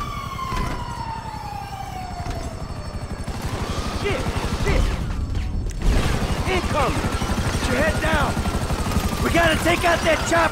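A police helicopter chases the player in the video game GTA 5, its rotor thudding throughout under wailing sirens and gunfire, while voices shout over the chase.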